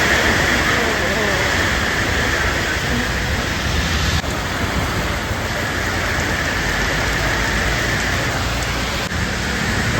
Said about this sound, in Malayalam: വീണ്ടും മഴ കനത്തു.